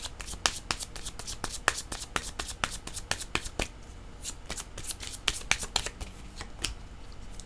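Yellow tarot cards shuffled by hand, a rapid series of crisp, close riffling snaps and flicks in uneven bursts, fairly quiet, with no speech over them.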